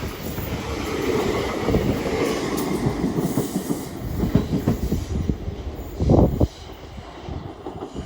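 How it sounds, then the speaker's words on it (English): A Class 800 train bound for Newcastle passes through a station at Edge Hill, a loud, sustained rumble of wheels and rail noise with rhythmic clatter and a brief swell near the end, buffeted by wind on the microphone. "Past is a Class 800 going to Newcastle."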